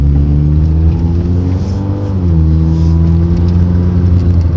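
A Honda Accord CB7 accelerates in third gear, its engine drone rising steadily and loud with strong low harmonics, shifting pitch briefly midway before climbing again, with no voices.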